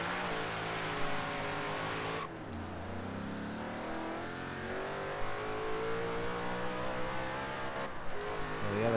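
A Lexus LFA in Forza Horizon 3 revs its engine hard toward a high-pitched wail, steady and fairly quiet, with a rising tone and no speech over it.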